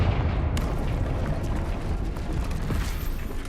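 A Confringo fire-blast spell explodes in a Harry Potter video game, a dense rumbling boom followed by sustained crackling, low roaring debris noise at steady loudness.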